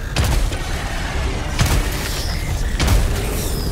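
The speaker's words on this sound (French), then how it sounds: "Grenade!" Grenade explosions in Helldivers 2 go off as three heavy booms, each with a sharp attack and a rumbling tail, spaced roughly every one to one and a half seconds over constant loud battle noise.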